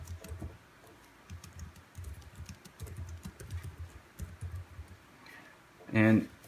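Quick, soft tapping on a small ZAGG Folio keyboard cover for an iPad mini comes in uneven bursts, close up, ending with a brief louder noise.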